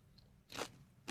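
A nacho cheese Doritos chip is bitten and chewed, with one crisp, close crunch after a quiet moment and another starting at the end.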